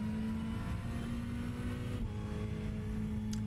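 Ferrari 488 GT3 race car engine in the iRacing sim at Watkins Glen, a steady loud droning hum held at a constant pitch, with no talk.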